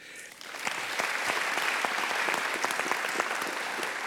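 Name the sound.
audience applause for panelists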